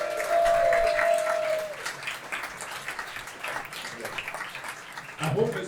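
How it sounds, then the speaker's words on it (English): Audience applause at an indie games festival showcase in Glasgow, a steady wash of clapping that holds loud through the first stretch, then thins into scattered claps and crowd murmur. "can we please get a big round of applause for Ponko and Devolver?"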